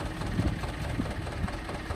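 A T-25 tractor engine runs with an Agrozet potato planter attached, producing a fairly quiet, steady mid-to-low idle rumble with faint knocking pulses and no voices.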